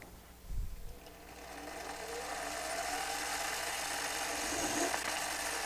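Hand file making a few quick strokes to bevel the end of a Buescher pivot screw at a workbench, a brief scraping pass up front followed by a steady low mechanical hum, no talking.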